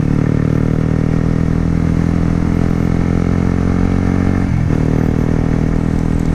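Motorcycle ridden in light drizzle, a steady, loud engine drone with constant low harmonics throughout, a brief dip and shift in tone near the end as the rider changes speed.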